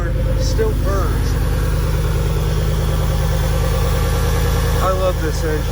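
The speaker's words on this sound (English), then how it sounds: "This car still purrs." A car engine maintained over 80,000 miles idles smoothly and evenly, a close, steady low rumble that holds through the whole stretch.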